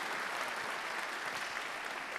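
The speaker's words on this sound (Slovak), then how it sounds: "potlesk patrí tebe" An audience applauds steadily, a continuous even patter of many hands clapping at moderate distance, fairly soft, with no voices standing out.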